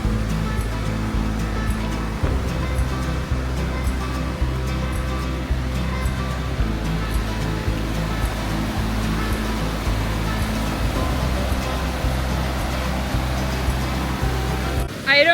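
Raging mountain waterfall a few feet from a campsite on a Colorado 14er hike, a loud steady roar of rushing water that fills the whole scene without letting up.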